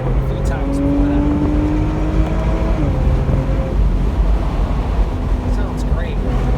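A high-mileage Porsche revs hard on a highway after a Seafoam treatment, a loud engine note climbing and falling through the rev range over road and wind roar, with talk over it.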